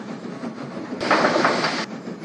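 A model train runs with a steady mechanical hum, followed by a brief louder hiss and clatter as it couples to its wagons.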